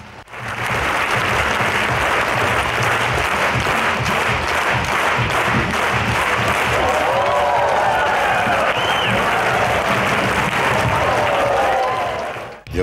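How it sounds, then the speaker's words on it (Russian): A concert hall audience in Nizhnekamsk delivers a long, full ovation, thick continuous clapping with some cheers and whistles mixed in, steady for over ten seconds. "Каждая песня – неутихающие овации."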